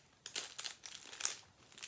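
A small cellophane package crinkles and crackles as it is handled and opened, in short bursts of close, faint rustling.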